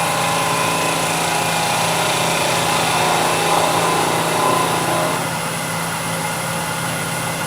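A power tool sanding a bead, bevel and top edge on a wooden beginner project, with a loud, steady high-pitched whine that eases slightly toward the end.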